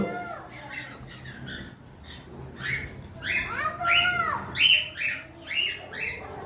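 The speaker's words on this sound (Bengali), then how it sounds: "অ্যালবিনো কোকাটেল নতুন একটা পেয়ার" A pair of albino cockatiels calls nearby in loud, repeated whistling squawks and chirps, rising and falling in bursts that grow stronger toward the end.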